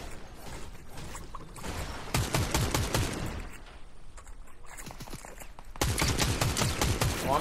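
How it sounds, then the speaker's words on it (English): Bursts of rapid gunfire from a Fortnite match, sharp repeated cracks in two clusters with quieter game sounds between them. "Oh, I'm shooting the NPC, dang it."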